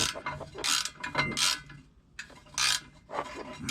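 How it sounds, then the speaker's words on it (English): A squeaky mechanic's creeper rolls beneath a 1992 Chevy Silverado 2500 pickup, giving off several bursts of grinding, ratcheting squeals with short pauses between them and no talk. "This is about the loudest creeper."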